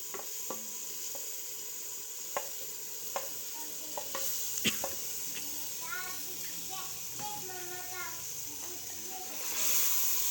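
Beef is added to a hot pot and sautéed for nihari: a moderate sizzle with scattered spoon clicks and stirring, faint voices under it, and the sizzle swelling louder toward the end.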